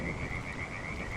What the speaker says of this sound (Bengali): চারিদিকে ব্যাঙের ডাক আর কচু গাছের পাতায় জমে থাকা জল